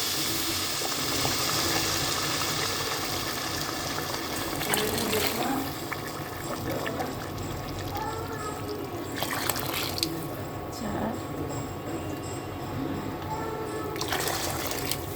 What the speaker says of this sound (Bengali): এখন আমি গরম পানি অ্যাড করে দিচ্ছি।